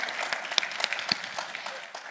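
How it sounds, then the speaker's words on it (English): A scattered round of clapping from a conference audience, fairly quiet and thin, with individual claps standing out in an uneven patter that trails off. "If you want to applause now, you could."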